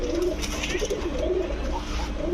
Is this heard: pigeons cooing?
yes